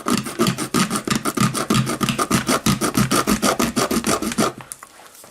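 A zinc battery casing is cut with a rapid, regular series of rasping strokes up close, about twenty evenly spaced scrapes that stop abruptly near the end.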